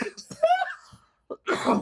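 A voice speaks briefly, then gives a deliberate, forceful cough close by, a short rough burst that sounds acted rather than natural.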